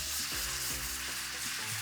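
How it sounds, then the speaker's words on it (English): Milk is poured into a butter and flour roux in a pan, producing a continuous dense sizzling hiss with faint stirring underneath, close and steady throughout. "now we'll start to add in our milk"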